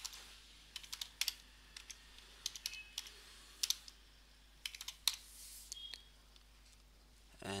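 Someone types a password on a computer keyboard, with sparse, quiet key clicks in short irregular runs against a faint steady background hum.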